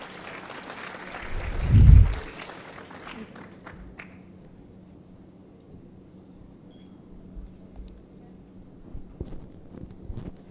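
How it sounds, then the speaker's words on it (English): A conference audience at an East African economic cooperation event gives a short burst of applause for a panel speaker, swelling briefly then fading into a quiet room with scattered small noises. "Please give her a big round of applause."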